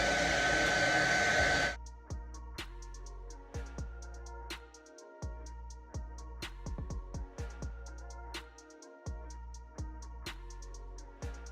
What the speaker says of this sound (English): Going to dry it a bit with a blow dryer.